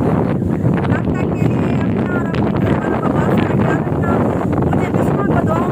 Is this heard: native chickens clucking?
no